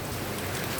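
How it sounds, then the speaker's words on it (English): Steady rain falling outside in Tagbilaran, Bohol, Philippines, a dense, even hiss with no breaks, close and moderately loud throughout, with no voices. "is she raining out there?"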